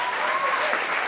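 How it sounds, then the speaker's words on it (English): A festival audience at a New York TV festival screening event bursts into steady, dense applause for a presenter, a brief, even wash of clapping with no break. "Let's give a big round of applause for Dan"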